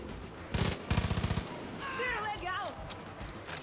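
Rapid bursts of automatic gunfire in Far Cry 5, two short volleys in quick succession followed by whooshing game effects, with a player's voice also present.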